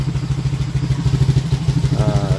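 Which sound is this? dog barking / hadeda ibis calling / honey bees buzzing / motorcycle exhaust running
motorcycle exhaust running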